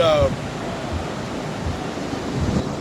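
Atlantic Ocean waves and surf at high tide on the shore, a continuous loud wash of breaking water with wind buffeting the microphone, plus a brief tonal sound at the start.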